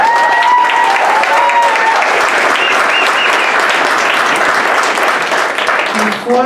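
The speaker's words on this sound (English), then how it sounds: "please give them a round of applause" Sustained audience applause at a university presentation by deans' fellows for racial equity and leadership development, loud and dense throughout, tapering slightly at the end as speech resumes.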